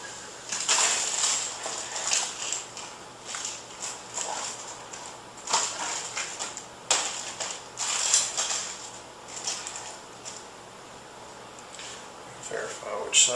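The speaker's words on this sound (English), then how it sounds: "You just put the screws in it." Screws being driven in by hand to mount a drive inside a PC case during an AMD A10-6800K APU build: close, irregular ratcheting clicks and scraping in short bursts, with brief pauses between them.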